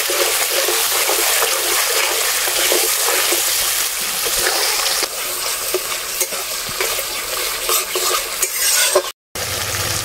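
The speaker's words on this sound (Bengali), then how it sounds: "এবারে মশলা ভালোভাবে কষিয়ে নেব" Spice paste with chilli powder, salt and sugar frying in oil in a pan, a continuous loud sizzle with scraping, stirring strokes throughout, ending in a brief cut-off.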